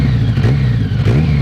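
A 1000cc trophy kart engine revs hard at a race start, a loud, steady mid-pitched roar that holds near and continuous with slight rises in pitch.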